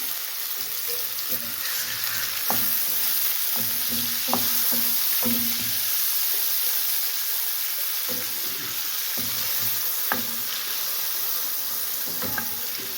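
Garlic frying in oil for the tomato sauce of Egyptian koshari, with a steady close sizzle and a few scrapes and knocks as it is stirred in the pan, no talk over it.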